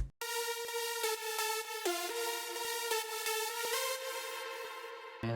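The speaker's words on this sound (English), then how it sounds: "the synth group is this preset I used and it sounds like this" A synthesizer preset lead plays a melody alone, bright buzzy sustained notes stepping through a phrase with short gaps between notes, loud and close, ending abruptly.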